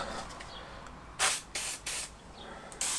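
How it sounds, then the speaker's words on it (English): Four short bursts of aerosol spray lubricant hiss in quick succession onto the front drum brakes of a classic Fiat 500, close and sharp, with quiet background noise in between. "we're going to have to give them a bit of a spray"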